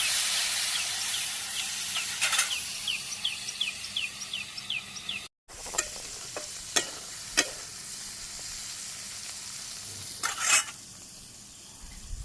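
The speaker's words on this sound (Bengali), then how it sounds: "হলুদের গুঁড়ো অল্প একটু শুকনো মরিচের গুঁড়ো ভাজি হোক" Turmeric and dried chili powder frying with eggs and potatoes in a Bangladeshi village kitchen, a soft continuous sizzle and hiss with intermittent stirring clicks and scrapes, a brief dropout midway.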